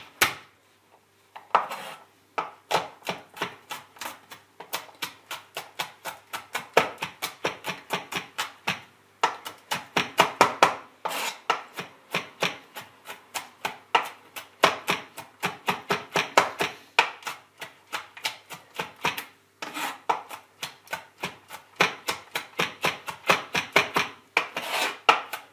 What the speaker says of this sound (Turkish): Şimdi sarımsakları önce bir ezelim.